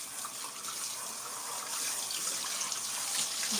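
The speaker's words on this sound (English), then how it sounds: "Okay, we're just gonna rinse this off." Water runs steadily from a tap while something is rinsed off, a continuous close splashing hiss that swells slightly toward the end, with no talk.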